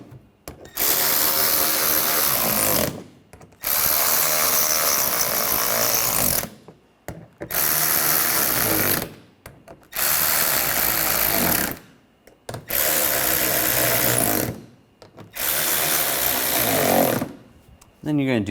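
Cordless power tool tightening bumper impact absorber bolts on a 2013–2019 Ford Escape, whirring loudly in six repeated bursts of about two to three seconds each, separated by short pauses.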